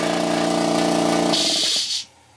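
A Makita MAC210Q air compressor runs with a loud, steady motor hum and then shuts off with a brief hiss, leaving quiet behind.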